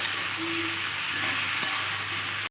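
Vegetables with salt and turmeric stir-frying in a pan keep up an even, close sizzling hiss with faint stirring scrapes, and no speech.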